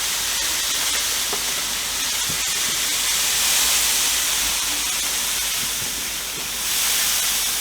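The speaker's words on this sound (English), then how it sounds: "We're gonna go ahead and spray these." A spray bottle hisses over smoked beef briskets in a large smoker, making a continuous broad, loud misting hiss that swells slightly partway through, with faint knocks beneath it and no talk.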